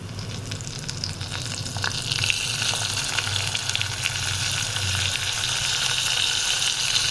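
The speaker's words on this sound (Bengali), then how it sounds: "আর তেল খুব বেশি গরম হয়ে যাওয়ার আগেই আমাকে এগুলো দিতে হবে, যাতে এগুলো ভালো করে ফ্রাই হয়ে যায়" Corn kernels fry in hot oil for crispy corn, with a steady, close sizzle and bubbling crackle that holds without pause.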